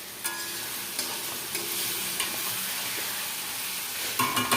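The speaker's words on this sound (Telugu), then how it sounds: "మధ్య మధ్యలో కలబెట్టుకుంటా ఉండండి ఫ్రెండ్స్, లేదంటే అడుగు అంటుతాయి" Chicken fry sizzling steadily in a frying pan with occasional scraping stir strokes, close and continuous, no talking.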